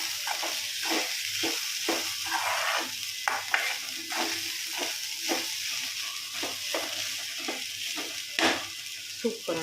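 Beans usili with coconut, cumin and green chilli is stirred in a hot pan: a steady, rhythmic series of scraping spoon strokes over a continuous sizzle, close and moderately loud, with no talking.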